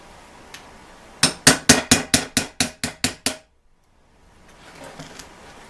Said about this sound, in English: Now we can pound the rivets out.